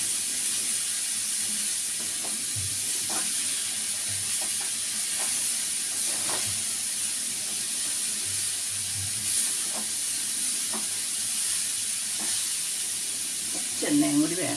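Food frying in a pan hisses softly and evenly while a spatula stirs it with scattered scraping knocks, and a slightly louder clatter comes near the end.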